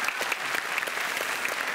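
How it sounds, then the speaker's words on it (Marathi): An audience at a Marathi film event applauds with brisk, dense clapping in a short steady burst, moderately distant and without voices over it. "जोरदार टाळ्या"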